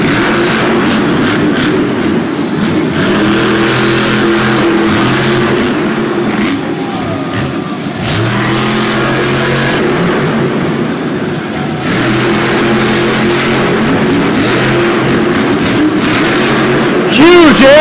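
Earthshaker monster truck engine roaring and revving hard during a Monster Jam freestyle run in a Syracuse stadium, loud sustained throttle swells rising and falling over crowd noise, with an announcer talking over it.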